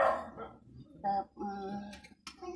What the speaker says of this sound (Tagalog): Mas malakas yung tunog ng aso eh. Aso ng kapitbahay.